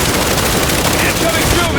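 Dense automatic gunfire from the Gears 5 video game, a loud continuous clatter of rapid shots under battle noise with shouting voices mixed in.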